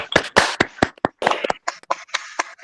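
Scattered claps and taps from participants giving virtual applause during an online church youth session, uneven and bursty, a few quick hits then a looser patter over about two and a half seconds.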